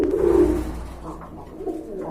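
A pair of pigeons, one a laying hen, coo close by, a loud throaty roll at the start followed by softer, fainter coos.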